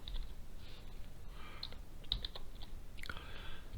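Quiet typing on a computer keyboard: a few soft, scattered key clicks close by, with no voices.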